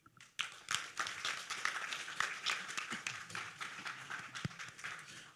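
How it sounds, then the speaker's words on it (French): Steady applause from a crowd at a youth council plenary session, dense clapping that starts abruptly and continues evenly throughout, with a few sharper individual claps standing out. "veuillez applaudir s'il vous plaît le projet contre le harcèlement"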